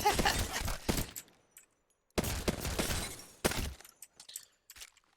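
Automatic gunfire in the shooter Apex Legends comes in two loud rapid bursts, each about a second long, separated by silence, with scattered sharp clicks and clatters after them.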